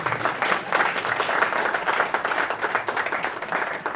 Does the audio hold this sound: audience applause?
yes